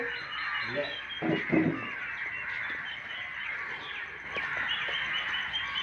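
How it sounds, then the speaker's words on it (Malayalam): Steady chorus of birds chirping and trilling outdoors, fairly faint, with a few louder calls and soft knocks in the foreground. "നല്ല കിളികളെ ശബ്ദമൊക്കെ കേൾക്കട്ടോ"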